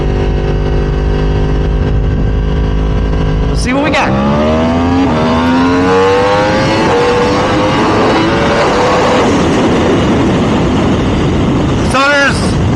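Yamaha R1M sport bike with exhaust, air filter and tune, accelerating hard along a bumpy road with a rising, loud engine note through several gears, then a quick pass near the end; someone speaks briefly at the start.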